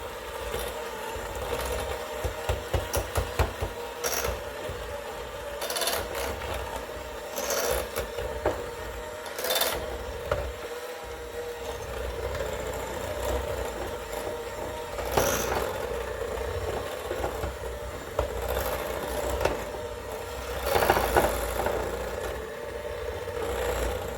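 An electric hand mixer whirs steadily for over twenty seconds while it beats powdered sugar icing for graveyard cupcakes, its motor drone slightly wavering and ticking as the beaters work through the bowl, with no talk.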